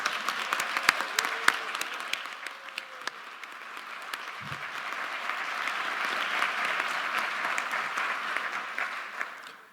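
A large audience at an evening Board of Education candidates event applauds the teachers present, a steady wash of clapping that builds slightly and then holds, heard at moderate distance with no voices over it.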